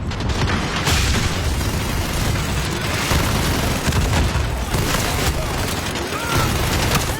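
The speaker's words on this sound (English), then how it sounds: "You can lob in explosive shells that will stop them from shooting at you." Explosive shells burst in the shooter game Modern Warfare, a dense, continuous rumble of booms and crackling blasts packed closely together with no pause, loud and filling the whole stretch.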